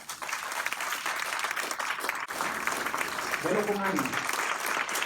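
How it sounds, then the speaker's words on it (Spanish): Applause from a church congregation during a Spanish-language sermon, a steady broad wash of clapping throughout with a voice speaking briefly over it near the end. "Eso merece un aplauso."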